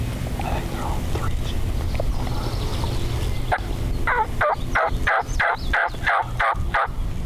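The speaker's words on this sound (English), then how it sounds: "Actually, I wonder if that's the one that was gobbling." Wild turkey gobbling during a spring hunt in Wisconsin, a loud rapid burst of gobbles heard fairly close midway through, after quiet outdoor ambience with faint whispering.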